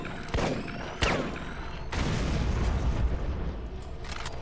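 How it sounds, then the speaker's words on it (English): Explosion in Doom 3 BFG Edition: several deep booming blasts burst in sharp succession, the last rolling into a long, loud rumble that slowly fades. "That was a big explosion."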